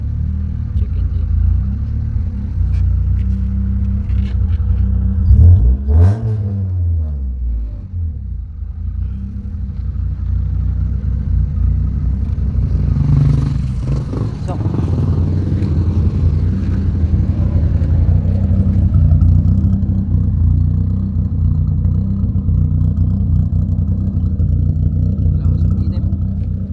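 A 1992 Honda EG car engine with an ECU fault runs steadily as a deep, continuous rumble, with a brief rev swell early on and a lighter bump midway, heard close up throughout.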